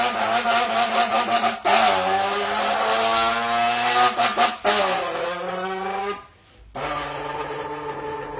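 A person vocally mimics a sports car's engine and wheel-lock skid, a loud sustained roaring rev broken by short pauses, then a brief drop before the imitation resumes.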